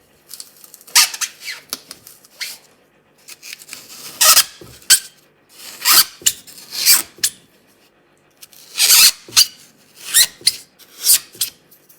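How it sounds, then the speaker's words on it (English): A chisel is driven deep into wood beneath a TT120 model railway track bed, making loud, close rasping and scraping bursts in an irregular rhythm. "So now let the chisel go deep."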